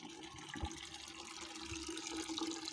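Water poured onto potted plants on a rooftop on a hot day, a steady splashing and trickling that runs continuously at moderate, close level with no talk over it.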